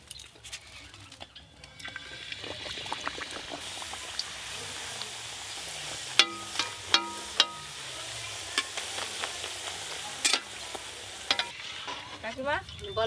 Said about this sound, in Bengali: এবার আমরা দুজন মিলে বসেছি লুচি ভাজতে